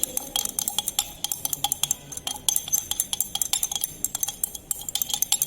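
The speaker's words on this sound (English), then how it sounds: "We will dissolve the potassium oxalate by continuous stirring." Potassium oxalate is stirred into solution in a glass vessel, producing a steady run of quick, bright clinking taps of a stirring rod against glass, close and fairly loud, with no talking.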